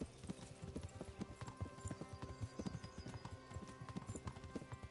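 A horse's hooves gallop in the medieval video game Kingdom Come, a quick, steady clip-clop rhythm played alone at moderate loudness.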